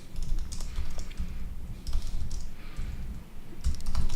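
Typing on a computer keyboard, a steady patter of close key clicks with occasional heavier strokes, continuous and moderately quiet with no voices.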